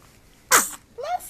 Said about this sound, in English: Just sneeze.